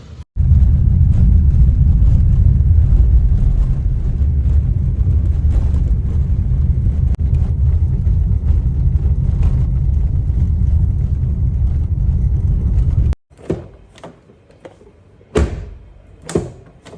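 A car drives along with a steady, loud low rumble of road and engine noise for about 13 seconds, then cuts off and is followed by a few brief thumps and knocks.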